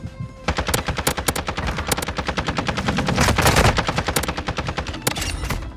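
Rapid automatic gunfire from an ISO submachine gun in the video game Warzone 2, sharp close bursts of evenly spaced shots with brief pauses between strings, loud and alone without talk.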